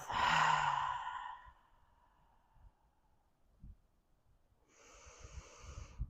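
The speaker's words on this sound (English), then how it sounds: "Inhale deeply in through your nose. Exhale through the mouth." Deep exhale through the mouth during a yoga breathing practice, one loud breathy sigh at the start fading out, followed by quiet room sound and a softer breath near the end.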